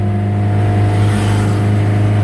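Inside a car cruising on a highway while its steering pulls to the right, a loud, steady engine and road drone holds without change and no one speaks.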